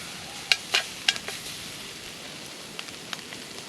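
Squid fries in a pan with garlic, chili and ginger, giving a soft steady sizzle broken by a few sharp pops and crackles near the start.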